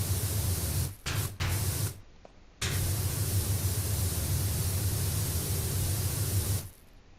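A pressure washer with a red nozzle sprays in Powerwash Simulator 2, a loud steady hiss of water that cuts out briefly in short bursts, then runs long before stopping.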